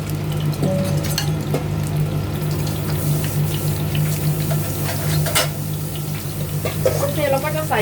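Fish frying in a pan of hot oil for a Thai fish soup, giving a steady, close, continuous sizzle with bubbling and occasional clinks throughout.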